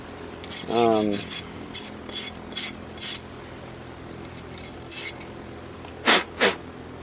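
A Stihl chainsaw chain is hand filed with a file guide, giving short rasping file strokes in irregular bursts, close and fairly loud, with quiet gaps between strokes.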